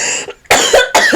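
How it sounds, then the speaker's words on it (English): A person coughs two harsh, loud bursts close by after a short throaty sound, with brief silence between them. "I'm going to keep coughing if we do this."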